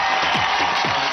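A studio audience on the TV dance show Dance India Dance cheers and claps loudly for dance master Feroz, a dense, continuous roar of applause and whoops with a low beat pulsing faintly underneath.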